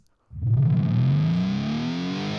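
A reversed guitar strum for a pop-rock song intro swells in from silence, its pitch and speed rising steadily as a tape-style speed-up effect replaces a plain fade-in, ending in a loud, sustained distorted chord.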